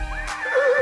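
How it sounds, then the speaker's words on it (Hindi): A horse gives a single close, clear whinny that rises and then wavers. It is brief and heard alone, with no talking. "जन्म ग्रहण करते ही उनके कंठ से हिनहिनाने की ध्वनि सी निकली"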